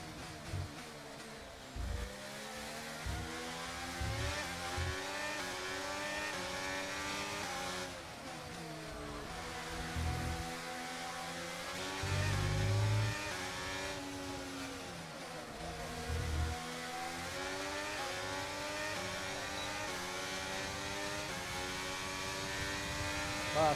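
Formula 1 race car engine in F1 23 drones steadily through a long overtaking run, its pitch rising and falling with gear changes and revs, continuous and fairly loud with no talk.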